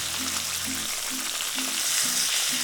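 A New York strip steak sears in an oiled pan, giving a loud, steady sizzle and crackle throughout with no talk, while low tonal bursts pulse in the background.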